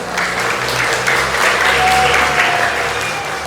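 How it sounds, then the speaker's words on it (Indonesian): An audience at a school's Kathina and anniversary celebration claps in a full, loud round of applause, steady and close, with a faint voice briefly showing through. "Tepuk tangan"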